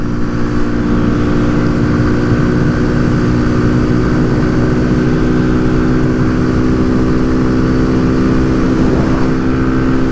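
Kawasaki Z125 motorcycle held at top speed, its small engine droning in a steady, loud high-rev whine with heavy wind rush throughout and no change in pitch.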